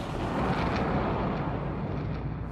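A loud, deep roaring rumble that sustains with no pauses, like the drawn-out blast of a huge explosion.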